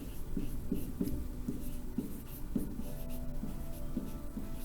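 Handwriting during a math lesson on factoring polynomials, a pen or marker tapping and scratching in short, quick strokes, faint and close, with no talking.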